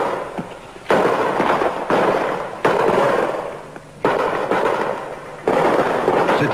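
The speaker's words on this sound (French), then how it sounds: "voici quelques tirs de sécurité avant la phase suivante" Safety gunshots fired by French Foreign Legion troops during training ring out as about five loud, sharp blasts, each followed by a rumbling, echoing decay that fills the gaps between them.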